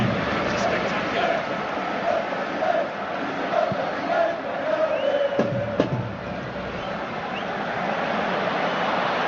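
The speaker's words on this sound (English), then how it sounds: "What a crowd up on their feet there" Simulated stadium crowd from a FIFA World Cup 2026 match between Australia and Egypt roars steadily throughout, a dense wash of cheering with a commentator talking over it.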